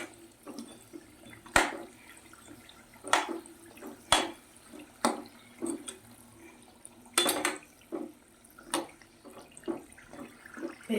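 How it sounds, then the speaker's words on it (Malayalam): Lentil vada fritters frying in hot oil give a steady crackling sizzle with scattered sharp pops and spits, close by, with no talking. "എന്നിട്ട് ഞാൻ ഇപ്പത് ഓയിലിട്ട് വറക്കണം"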